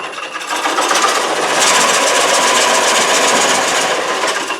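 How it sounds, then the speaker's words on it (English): A wood lathe set up for bowl coring starts and runs, giving a loud, steady mechanical whir with a fast rhythmic hum that holds evenly throughout. "tighten it down, turn it back, check that again, make sure it's tight, there we go, start the lathe"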